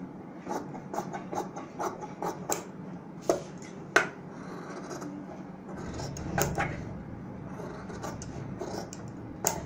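Scissors snipping through stitched fabric and stiff buckram around a neck design, a run of short crisp cuts in uneven rhythm, close and moderately loud with faint rustling between snips.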